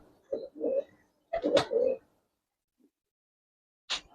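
Gribaz coloring pigeons coo in a loft, giving a few soft, close throaty calls in two short bursts, then a pause and one last brief note.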